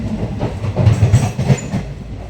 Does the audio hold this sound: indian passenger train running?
yes